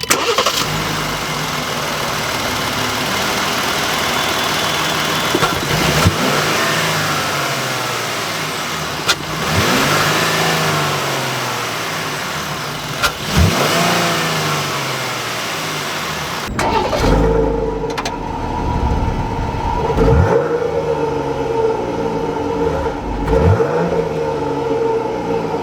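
A 2022 Jeep Grand Cherokee Summit Reserve with a naturally aspirated 3.6-litre V6 gasoline engine starts up, settles into a steady idle, then gets revved in several distinct bursts that rise and fall, heard up close with no talk.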